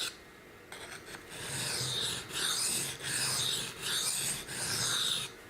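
A blade drawn in repeated cutting strokes across a sharpening stone, giving a rhythmic series of close, abrasive rasps of about a second each with brief pauses between them.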